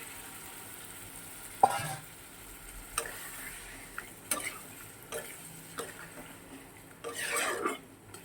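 A splash of water hits a spice paste frying in a pan, giving a quiet ongoing sizzle punctuated by sharp utensil clicks and a louder hissing burst near the end.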